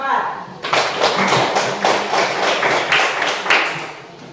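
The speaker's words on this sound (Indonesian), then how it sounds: "Ya, tepuk tangan untuk kelompok 4." A burst of clapping from a small group after a classroom group presentation begins abruptly and continues steadily, fairly close, with uneven hand strikes throughout.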